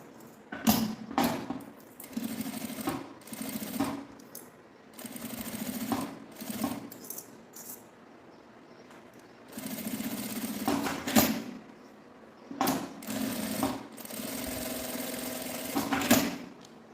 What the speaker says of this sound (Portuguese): A alça eu vou fazer a mesma coisa. Uma costurinha de cá e outra de cá.